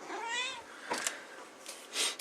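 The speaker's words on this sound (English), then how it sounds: "Crazy cat." A house cat meows once at the start, a short wavering call, followed by soft scuffs and small bumps nearby, all fairly quiet with no talking.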